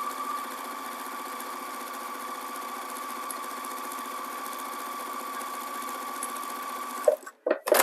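Sewing machine chain-piecing quilt block pieces, a steady loud mechanical hum with a constant whirring tone running for about seven seconds, then a few brief stop-start bursts as stitching ends, with no talking.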